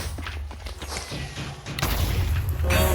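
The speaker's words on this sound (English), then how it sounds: "Oh, missiles following me." Missiles launching and blasting in a sci-fi shooter game, with dense booms and gunfire-like bursts that swell louder toward the end, a voice briefly audible under the barrage.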